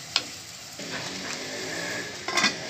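Chopped vegetables sautéing for Maggi noodles, a steady hiss of oil with sharp scraping stirs at the start and end, close and alone.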